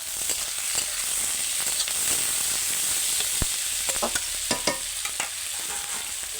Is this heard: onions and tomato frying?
yes